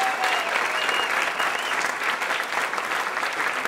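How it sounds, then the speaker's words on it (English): Sustained applause from the audience at a 2012 Amherst Chamber of Commerce awards event, a dense, steady wash of many hands clapping, loud and even throughout. "A big round of applause to Amherst Media for putting that together."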